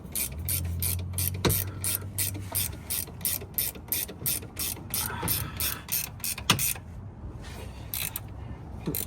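A ratchet clicks in rapid, evenly spaced bursts while bolts are tightened on a Honda Type R, close and clear, with occasional metallic knocks and a low hum early on.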